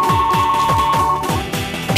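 A telephone rings loudly and repeatedly, with a steady electronic tone over a quick rhythmic pulse, close and unbroken.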